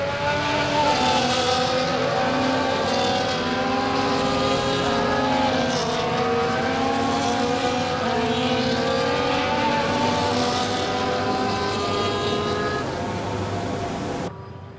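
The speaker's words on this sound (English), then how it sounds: "Cars come back to the grid to line up for the start of the race." Racing cars from the F1 24 game at the Canadian Grand Prix roll back onto the grid to line up for the start, with a loud, steady drone of high-revving engines and shifting tonal whines for the whole stretch, and no voices.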